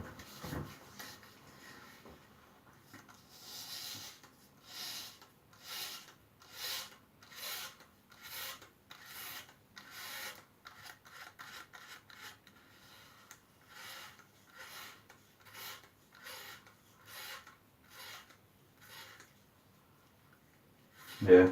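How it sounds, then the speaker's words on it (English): A Gillette Fusion Flexball razor with a chrome handle scrapes across the back of a head in close, quiet, rhythmic strokes, each rasping pass separated by brief pauses. "this is shaving pretty well once you get the handle nice and dry"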